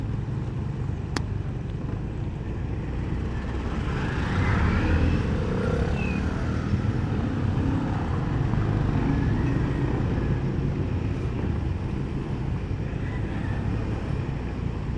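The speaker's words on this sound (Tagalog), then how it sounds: "Grabe, ito na naman ang traffic." Steady road traffic rumble on a foggy morning commute, a continuous broad engine and wind roar with no breaks, heard from the road with wind buffeting the microphone.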